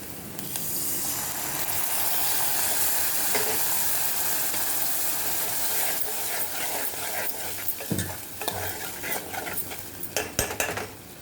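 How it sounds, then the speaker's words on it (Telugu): Curd goes into a capsicum rice mixture roasting in a pan, with a steady sizzle and frying hiss throughout, then stirring and clinks of a metal spoon against the pot toward the end. "కొంచెం రోస్ట్ అయ్యాక ఇప్పుడు పెరుగు వేస్తాను."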